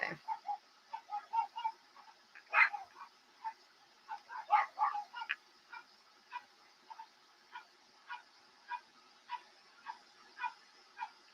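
Several dogs bark in a series of short, sharp, fairly distant yaps, first in a quick cluster and then at a steady, evenly spaced pace, with no voices over them.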